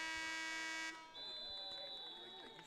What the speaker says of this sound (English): you would hear the buzzer sound during the kick